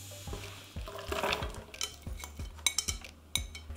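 Meat and onion tipped into a multicooker bowl coated with a spoonful of sunflower oil, giving a series of close, soft clattering drops and scrapes of food and utensil against the metal bowl, with no talk.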